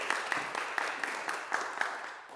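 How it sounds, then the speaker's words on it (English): An audience claps in steady applause for a speaker at a live talk event, a dense, moderately distant wash of hands with no voices over it. "a round of applause for Kirsten Shepard"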